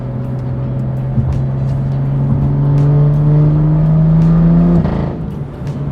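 A Porsche drives off outdoors in the morning, its steady engine drone rising slightly in pitch as it pulls away, loud and close before fading near the end.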